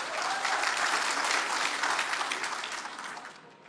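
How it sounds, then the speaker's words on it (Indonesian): Loud, sustained applause from the audience at a public debate between candidates for governor and vice governor of Aceh, a dense steady clapping that holds for several seconds before tapering slightly at the end. "Tepuk tangan meriah."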